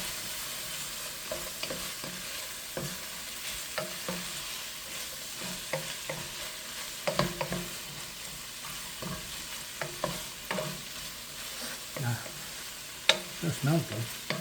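Minced garlic sizzling in butter in a pan, with a soft, steady frying hiss broken by repeated scraping stirs of a utensil, quiet and close.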